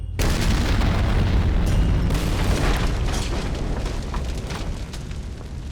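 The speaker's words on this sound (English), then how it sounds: "the round would penetrate the wall and then explode inside" A tank round bursting inside a building during WWII street fighting in Ortona, Italy, heard as a loud sustained booming roar that slowly decays over several seconds, with no voices.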